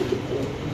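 At a pigeon farm, a pigeon gives a short, low cooing phrase, close and clear over faint background noise.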